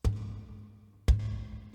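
Two palm strikes on a guitar body mimic a kick drum, each a deep, boomy thump about a second apart with a short low-end ring, close and alone.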